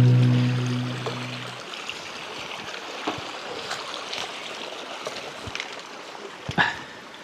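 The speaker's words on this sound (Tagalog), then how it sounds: "Mababaw lang naman yung ilog. Hanggang tuhod lang." A shallow, knee-deep river in a hidden lagoon at Tua, Magallanes, Cavite flows steadily with a broad, soft rush of water, close and continuous, with a brief low thump near the start and no talking.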